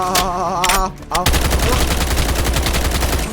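Rapid automatic gunfire from an overpowered gun in a One Block Minecraft game, a dense rattling burst of shots that runs steadily after a brief pause with a higher tone at the start.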